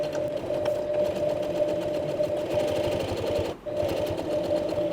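A hand-cranked sewing machine stitches a coin purse, its needle clattering in a steady, even rhythm with a constant whirring hum, pausing briefly near the end before resuming.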